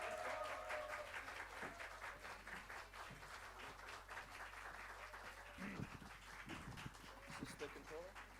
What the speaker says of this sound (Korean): 우리 잔옥수 교수님을 열렬한 박수로 환영해 주시기 바라겠습니다